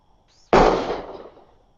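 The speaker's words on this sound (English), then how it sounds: "that was a gunshot" A single loud gunshot goes off outside, a sharp sudden bang with a brief rolling tail that fades over about a second, heard during a podcast recording.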